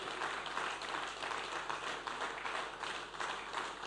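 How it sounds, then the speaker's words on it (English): Audience at the Kingdom Summit 2022 panel event clapping as a pastor walks onto the stage; dense, steady applause fills the whole stretch without pause. "let's keep clapping as we receive Pastor Kayode Pitan"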